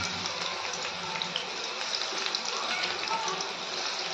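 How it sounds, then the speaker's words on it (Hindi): Spinach pakoras sizzle steadily in hot oil, a dense, continuous bubbling hiss at moderate level with no breaks, sounding close by. "तो अब हम पकोड़ों को फ्राई करेंगे"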